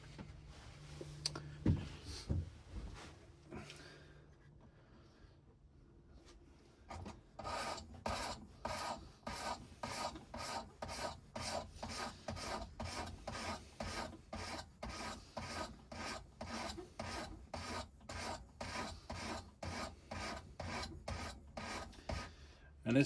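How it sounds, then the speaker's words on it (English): A knife blade is drawn repeatedly across a sharpener in a quick, even rasping rhythm after a few scattered scrapes, close and clear with no voices. "it's been a while since I sharpened this knife"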